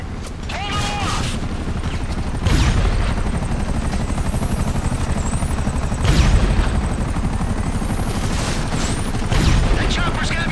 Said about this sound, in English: That chopper's gotta be in its sights